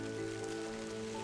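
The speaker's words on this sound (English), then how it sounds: "And it's starting to rain." Steady rain falling on a forest trail, a dense, even patter that stays constant throughout, close and continuous with no talking.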